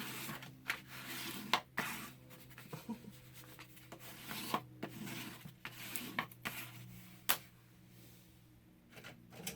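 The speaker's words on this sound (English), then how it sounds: "I'm just going to burnish it a little bit so it lays flat before I start pulling off the backing." Album hinge tape being burnished flat with a tool, a quiet run of soft rubbing strokes and scrapes in irregular bursts with small taps between them, close and alone.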